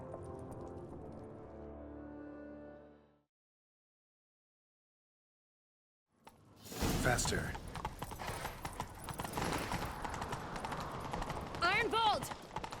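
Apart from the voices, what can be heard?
horse galloping in chase, video game The Witcher 3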